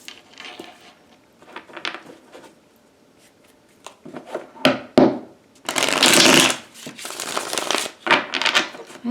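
Tarot cards are shuffled close by, with soft riffles and taps, then a loud, sustained burst of cards riffling together, followed by further brief shuffles.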